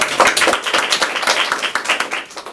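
A small group claps after a student debate speech on whether AI judgments of humans can be trusted, close and fairly loud, with distinct uneven claps bunched into a lively patter that fades at the end.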